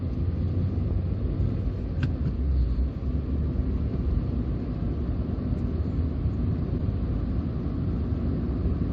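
Inside a 2003 Toyota Yaris 1.5 T-Sport on the move, a steady low engine and road drone fills the cabin, constant and fairly loud with no talking.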